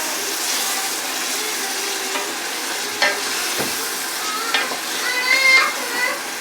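Steady sizzling of kidney beans frying in a pan on high heat, with occasional stirring scrapes and clinks, close by and fairly loud, no talking.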